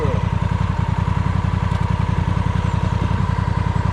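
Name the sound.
motorcycle engine throttle blip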